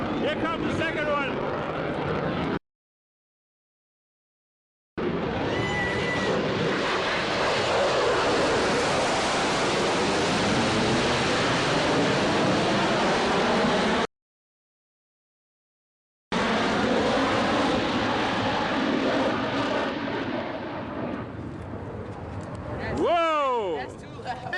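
An F-22 Raptor fighter jet roars past at close range, a loud broadband blast that fills the clip with two short dropouts, then fades with a rising whine at the end; excited voices react over it.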